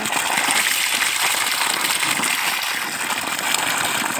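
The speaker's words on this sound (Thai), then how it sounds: "น้ำไหลเต็มท่อนิ้วสองนะคะ" Water from a 1500 W solar-powered submersible pump, drawn from 80 metres deep, gushes out of a two-inch pipe in a loud, steady broadband rush that fills the whole stretch with no talk.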